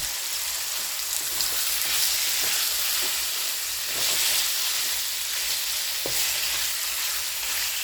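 Beef for shawarma browning in a pan, a loud, dense, continuous frying sizzle that surges and crackles throughout with occasional sharper spits.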